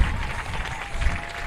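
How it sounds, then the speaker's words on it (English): Crowd at a college baseball game applauding a departing pitcher, a brief burst of steady clapping and murmur heard from a distance. "Daniel Fisher getting a terrific round of applause here for the job he's done today"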